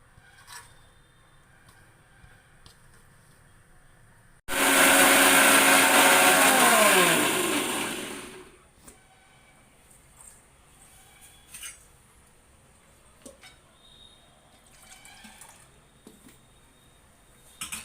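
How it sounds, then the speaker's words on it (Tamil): A mixer grinder jar grinds coconut in a loud, steady burst of about four seconds whose pitch drops as the motor loads, with quiet kitchen sounds before and after. "இப்போ தேங்காய் அரைச்சி ஊற்றணும்."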